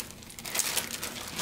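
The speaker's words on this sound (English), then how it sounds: "And this comes in this plastic bag." Plastic bag crinkling as a webcam stand with a flexible jaws clamp mount is unboxed, a short burst of close, crackly rustling with a few sharper crinkles.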